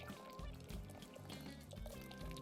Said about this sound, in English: I'm going to pour it into these Cambros.